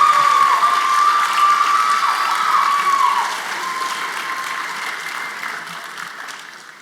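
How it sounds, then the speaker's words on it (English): Enthusiastic audience applause with some cheering at a first-generation student celebration, loud at first and then fading gradually over several seconds. "round of applause, please"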